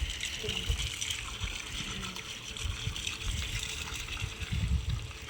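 Water gushes and splashes steadily onto foliage and ground, a continuous trickling pour with faint background noise.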